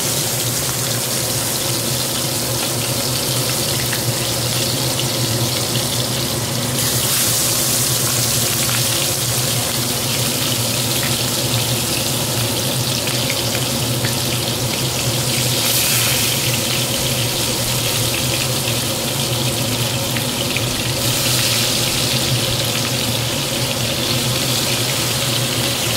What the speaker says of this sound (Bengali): এবার চিংড়ি মাছটা আস্তে আস্তে সর্ষের তেলে ছেড়ে দেবো।